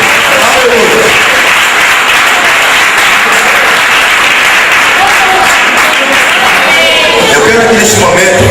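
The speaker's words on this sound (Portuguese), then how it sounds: "Aqui você pode louvar o Senhor com as palmas bem forte" A church congregation at a prison preaching service claps hands loudly in praise, a dense, sustained wall of applause with voices mixed in throughout.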